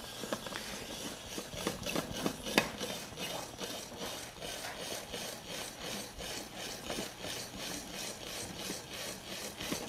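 Zucchini twisted through a spiralizer into angel hair noodles makes a steady, rhythmic scraping and rasping, repeated cutting strokes close up with no talking.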